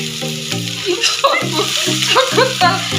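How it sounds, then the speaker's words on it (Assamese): Food frying in a pan as it is stirred, a loud continuous sizzle broken by repeated scraping strokes of the spoon in a steady rhythm. "এতিয়া মই ভালদৰে লাৰি দি আছোঁ"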